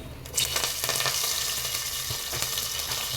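Curry leaves and fenugreek seeds dropped into hot oil for brinjal drumstick sambar, bursting into a loud, continuous crackling sizzle close up, with a few stirring scrapes.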